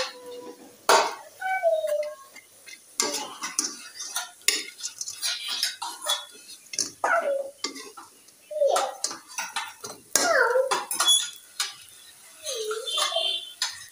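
Bora fritters clatter and scrape as they are turned and fried in a pan, with irregular bursts of utensil knocks and clinks over a light sizzle, under intermittent talk.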